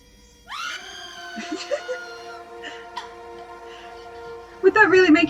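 A long, loud high-pitched scream from a horror video game rises sharply and holds for several seconds over a droning tone, then breaks into a shrill, wavering cry at the end.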